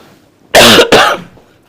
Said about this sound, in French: J'ai pas toussé du live et là ça commence.